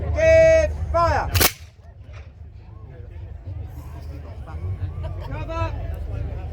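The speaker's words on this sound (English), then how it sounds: "Ladies and gentlemen, 17th century muskets." A volley of 17th-century muskets fires together in an English Civil War weapons demonstration: one sharp, loud crack with a long, rumbling echo behind it, and a crowd murmuring before and after.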